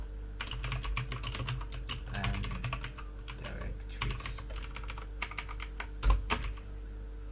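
Rapid, irregular clicking of keys on a computer keyboard, close by, with a brief spoken phrase and a steady low hum underneath.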